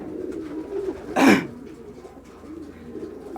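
A single short coo from a male pigeon rises briefly over a quiet background murmur, then fades, leaving low ambient hum.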